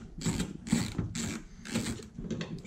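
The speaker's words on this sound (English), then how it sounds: "now we'll just take these T30 bolts." A ratcheting tool removes T30 bolts from the front bumper of a damaged Porsche Cayenne S, with four or five quick clicking bursts up close, quiet and uneven, with no voices.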